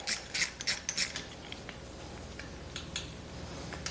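A ratchet with a 14mm socket works on tight nuts and bolts, giving a quick series of close metallic clicks and rattles, then quieter scraping and a few further clicks.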